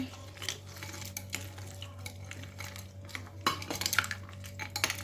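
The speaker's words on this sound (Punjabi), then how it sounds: "ਥੋੜੀ ਜਿਹੀ ਆਈਸ ਇਹਨੂੰ ਅਸੀਂ ਕਰਾਂਗੇ ਮਿਕਸ" Ice and chilled summer sharbat stirred in a glass, soft clinks and scraping taps of a spoon close up, irregular and fairly quiet over a low hum.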